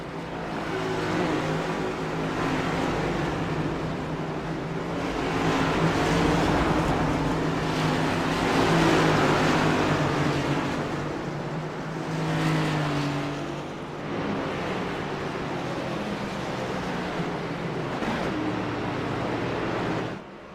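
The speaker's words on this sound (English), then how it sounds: "You see Mueller, the first car off" Race cars at an AMS Cup Series event roar around the track in a continuous, rising and falling engine drone, as several cars pass and swell louder before easing back, with no talk over them.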